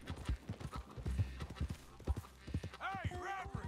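Rhythmic hoofbeats clop quickly and close, a horse galloping steadily in the video game Red Dead Redemption 2, with a brief whinny near the end.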